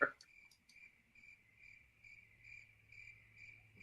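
Crickets chirp in a faint, steady series of short pulses at an even rhythm, sounding alone against a quiet low hum.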